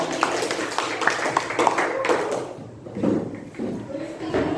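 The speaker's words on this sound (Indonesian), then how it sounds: "tepuk tangan untuk kelompoknya Rani dan kawan-kawan" A classroom of students claps for a student group, a short scattered burst of hand claps with a teacher's voice speaking over and after it.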